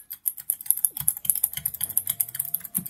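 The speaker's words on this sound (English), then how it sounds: "That was so hard to type." Rapid keystrokes clatter on a computer keyboard during a Hive Treasure Wars Minecraft game, a steady run of close, crisp clicks with a few faint tones and thumps beneath.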